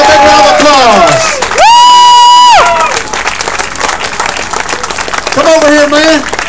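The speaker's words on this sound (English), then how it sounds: "Let's give them a big round of applause." A crowd cheers, whoops and shouts loudly at a bass fishing tournament weigh-in for the Champlain champion, with an amplified voice and a brief high tone cutting through the noisy celebration.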